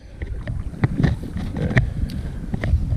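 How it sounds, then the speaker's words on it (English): Wind gusts outdoors on the water during a fishing trip, a rough, blustery rumble buffeting the microphone continuously with scattered knocks and splashes. "the wind is starting to blow"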